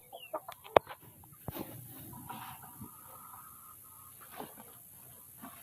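Chickens on a farm plot cluck in short, irregular bursts, with a sharp peck or knock early on and a steady background hum throughout.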